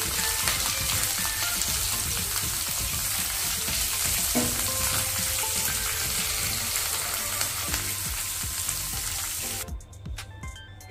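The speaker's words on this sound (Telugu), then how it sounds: "కొద్దిగా పచ్చివాసన పోయేదాకా వేయించుకోవాలి. బాగా మిక్స్ చేసుకోవాలి." Grated carrot fries and gets stirred in a pan, a dense continuous sizzle with scraping spoon strokes throughout, then a brief running tap as the frying fades at the end.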